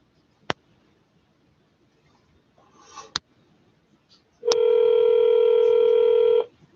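A home landline telephone gives a few sharp clicks and button beeps, then a steady, loud electronic tone holds for about two seconds before cutting off.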